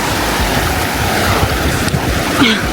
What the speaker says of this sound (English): This river is called Rio Grande.